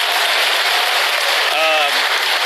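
Audience at a televised Democratic town-hall forum on climate change breaks into loud, dense applause, a steady roar of clapping close up, with a voice rising briefly over it.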